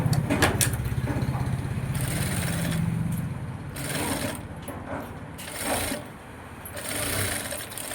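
A sewing machine runs fast, rhythmic stitches through fabric to join a neckline facing, loud and close at first, then in shorter runs while someone talks between them.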